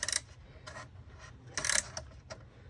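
Scraping, rasping metal clicks as a small 5/16 wrench snugs the screws on a bass drum bracket, coming in short irregular bursts close up.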